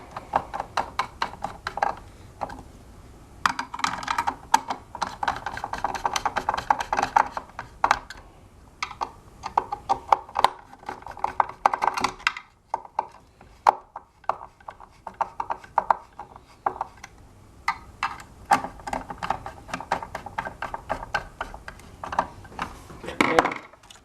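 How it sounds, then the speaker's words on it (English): Screws being tightened by hand while reassembling a Smart Balance board during a wheel replacement, heard as close, dense bursts of small clicking, ticking and rubbing with brief pauses between runs. "Tighten all the screws."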